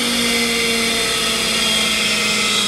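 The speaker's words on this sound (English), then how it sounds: "So that's the ID grinding wheel. It's quite fast." A Myford MG12-M grinder's internal (ID) grinding wheel spins at high speed, giving a steady, loud, high-pitched whine with a faint lower hum that holds unchanged throughout, with no talking.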